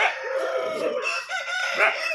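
A fighting rooster crows nearby during a cockfight, a loud strained cry, with clucking and other fowl noises mixed in.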